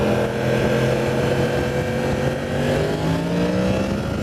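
A 2018 Yamaha MT-10 motorcycle engine accelerates hard, a loud continuous roar rising steadily in pitch through the gear as the bike pulls.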